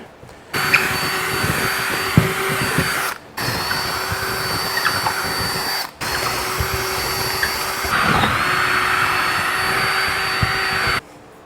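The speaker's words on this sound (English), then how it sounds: "we're going to step up to a 1/2 inch drill bit here" A power drill with a 1/2 inch bit whines steadily in three long bursts separated by brief pauses, loud and close, drilling through a truck cap, the motor pitch dipping slightly under load.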